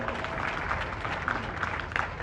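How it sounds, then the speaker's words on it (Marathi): An audience at a college gathering applauds, a dense continuous wash of clapping that holds steady through the short moment. "एकदा जोरात टाळ्या झाल्या पाहिजे"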